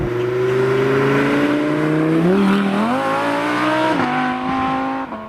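A 2017 Audi R8 V10 Plus engine revs loudly and steadily, its pitch climbing and dropping through several gear changes over several seconds, with no talking.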